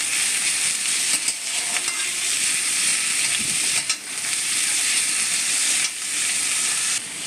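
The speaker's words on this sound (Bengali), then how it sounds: "তারপরে একটু লবণ দিয়ে হলুদ আর জিরের গুঁড়ো দিয়ে ভালো করে মিশিয়ে নেব" Turmeric and cumin powder are stirred into a small-fish curry in a hot pan, with a loud, steady sizzle and hiss throughout, broken by brief scraping and stirring dips, and no talking.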